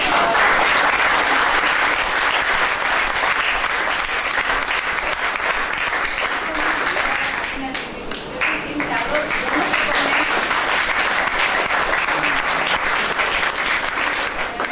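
A hotel club event audience in India breaks into loud, sustained applause, thick continuous clapping filling the room for the whole stretch with a brief dip in the middle, while a voice talks faintly underneath.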